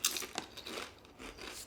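Thick, dark kettle-cooked potato chips being bitten, giving several close, sharp crunches and crinkly chewing bursts in quick succession, each one crisp and dry.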